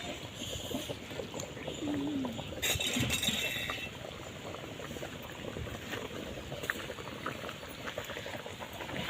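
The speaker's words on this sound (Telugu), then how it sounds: "పులుసు అయితే మరిగిపోయినట్టండి" Fish curry boiling in a pot over a wood-fired stove in a village setting, a continuous bubbling simmer with faint bird coos nearby and a brief clink.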